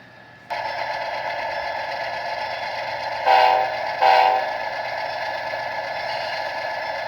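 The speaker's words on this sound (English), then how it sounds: "the Amtrak engineer whistles off and departs." A steady Amtrak train engine drone with two short whistle blasts in the middle, the rumble continuing as the train pulls away.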